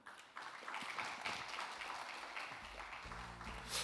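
A conference audience at a sensor commercialization session claps after a presentation, a few seconds of moderate, fairly distant applause that fades into a low room hum.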